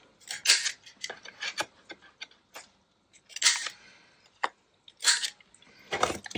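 Scissors snip the corners off scrap fabric in a series of close, crisp cuts in irregular clusters, fairly quiet with no talk.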